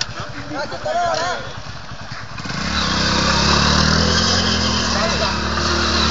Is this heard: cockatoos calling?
no